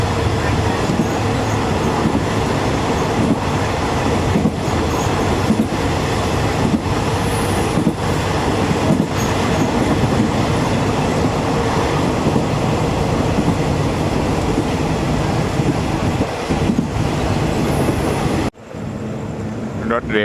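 A Thai rapid train, number 133 from Bangkok to Nong Khai, rumbles along the rails at night near Saraburi station with a continuous heavy roar and rhythmic wheel clatter, loud and close, then the noise abruptly drops near the end.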